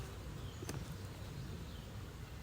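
A honeybee swarm hums steadily through a hive inspection, a faint, even drone that holds for the whole moment with no break.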